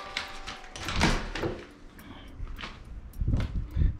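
A spare entrance door in a new Las Vegas model home is handled with a run of knocks, clunks and scraping thuds spread over several seconds, close by, with soft shuffling movement in between.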